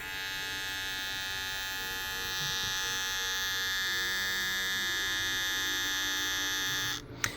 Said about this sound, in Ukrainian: давайте я вам увімкну, ви подивитесь, як рухається сам рухомий ніж